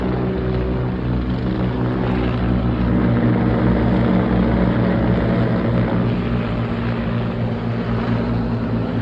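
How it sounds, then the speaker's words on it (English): Helicopters flying overhead near Red Cliff and Medicine Hat, a loud, continuous thumping rotor and engine drone that fills the whole stretch steadily, with no voices. "helicopters flying overhead right now"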